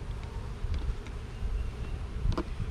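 Honey bees from a hive drone in a steady, dense buzz close by during a varroa mite check, with faint handling knocks and no voices.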